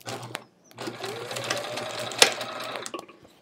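A sewing machine stitches binding onto a hedgehog wall-hanging quilt: a short burst of whirring, a brief pause, then a longer steady run of stitching that stops with a small click, heard close up with no talking.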